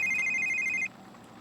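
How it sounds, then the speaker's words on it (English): A phone rings in The Sims 3, a bright electronic trill repeating rapidly for under a second and then cutting off, leaving a quiet background hum. "Wait, phone."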